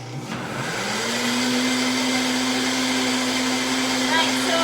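A blender spins up and runs steadily at a loud, even whine while blending hemp milk, the motor pitch rising slightly at the start and then holding constant.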